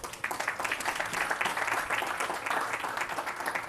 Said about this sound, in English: So give yourselves a round of applause just for showing up today